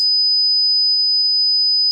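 A pure 5000 Hz sine test tone sounds as a steady, piercing, shrill whistle at constant pitch and level, loud and alone, with nothing else heard for its whole length.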